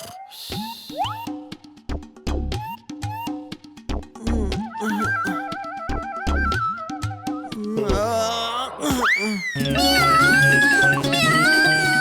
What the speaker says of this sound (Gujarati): અહીંયા બિલાડી છે.